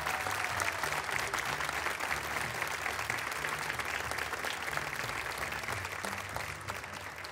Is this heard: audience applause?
yes